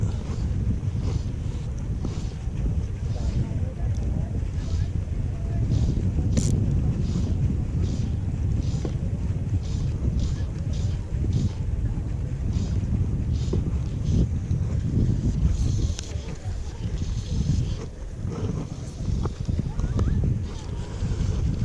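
Strong wind buffets the microphone in a steady low roar while fly fishing on the Rio Caldo in Gerês, Portugal, with faint clattering and splashing beneath it throughout.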